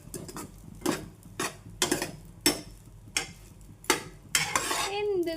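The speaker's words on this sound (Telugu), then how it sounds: "ఇప్పుడు మొత్తం మిక్స్ అయ్యేలా కలుపుకోవాలి" Crushed leftover idli being mixed in a pan, a series of rhythmic spatula scrapes and clinks against the metal, about eight distinct strokes over a faint sizzle, close and clear, with music rising at the end.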